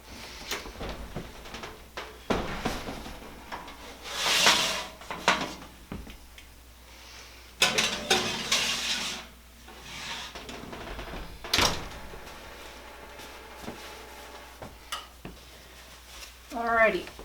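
An oven door thumps and clatters in a home kitchen as a tray of salted sweet potato fries goes back in to bake, several short knocks and bangs scattered between a person talking.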